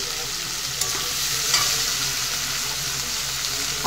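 Shrimp sizzling loudly in a hot pan with oil while being stirred, a dense continuous frying hiss with a few scraping stirs, close and steady with no voices.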